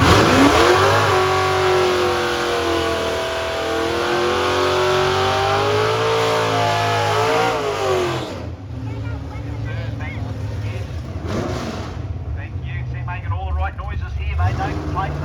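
A Ford V8 engine, Windsor or Cleveland, revs hard at an all-Ford day event in Queensland, a loud, sustained roar climbing in pitch before easing back to a rough, burbling idle near the end.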